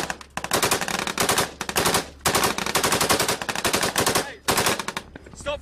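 Sustained bursts of automatic machine gun fire during a firefight in Afghanistan, loud and close, rattling in long rapid strings with brief pauses between bursts.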